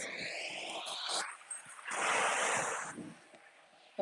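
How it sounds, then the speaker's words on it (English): Ocean surf at Deerfield Beach, Florida, a steady broadband wash of waves that rises into a fuller surge midway, with wind buffeting the microphone. "The waves are beautiful today."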